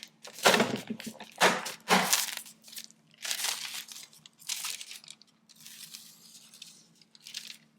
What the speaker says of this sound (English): It'll push the rest of the design paper out of the machine.